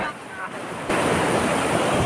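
A broad, roaring wash of surf that suddenly swells louder partway through, rushing and unbroken like large waves crashing close by.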